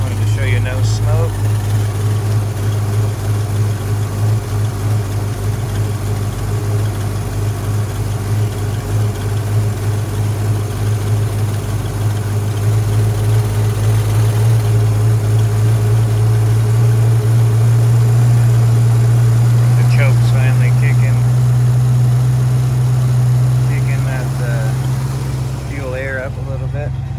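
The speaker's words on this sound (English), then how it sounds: "Nice idle sound for a cold start." A 1964.5 Ford Mustang convertible idling after a cold start, a loud, steady low engine drone close by that rises slightly in pitch toward the end, with a voice talking briefly.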